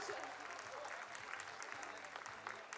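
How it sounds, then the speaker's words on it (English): Steady applause from a school audience at an annual cultural night and prize distribution ceremony, honouring an all-round award winner; dense clapping runs throughout without a break, with faint low tonal sound underneath. "Please give him a huge round of applause."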